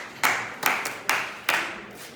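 Four sharp hand claps, evenly spaced about 0.4 seconds apart, sound in a classroom. They are fairly close and distinct, with a little room noise between them and no talking.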